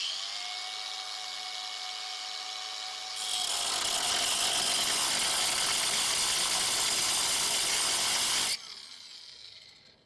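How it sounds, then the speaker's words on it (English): A power drill whines steadily, then surges into a louder, harsher grinding bore into rusty metal on a 1999 Mazda B2500 for several seconds before suddenly cutting back and winding down. "that's gonna give us a spot to put the drill in"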